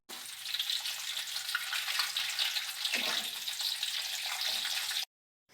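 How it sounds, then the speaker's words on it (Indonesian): Shallots fry in hot oil in a wok over lowered heat, giving a steady, close hiss of sizzling with a brief crackle midway, cutting off abruptly near the end. "Setelah minyak panas, kecilkan api. Kemudian masukkan bawang merah."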